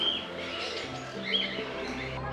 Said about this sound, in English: The collection of local and international birds here was astounding